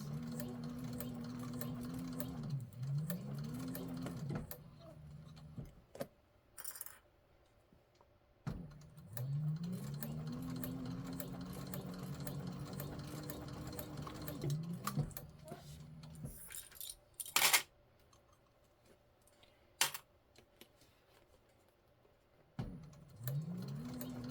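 A domestic sewing machine stitches a handbag in bursts of rapid, rising whirring runs, stopping and restarting several times with pauses and handling clicks between, close by, with someone talking briefly.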